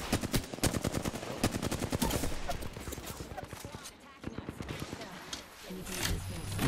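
Rapid gunfire in the Apex Legends battle royale video game, loud bursts of automatic shots rattling in quick succession with short gaps, fading then returning near the end.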